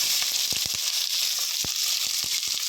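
Onions sizzle steadily in hot oil with mustard seeds and curry leaves, a bright hiss punctuated by scattered sharp pops and crackles.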